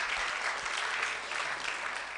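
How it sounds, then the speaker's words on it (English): A crowd at a Software Freedom Day event applauds a speaker, an even, sustained roar of many hands heard from some distance, fairly soft and unbroken. "Please, a round of applause for him, please."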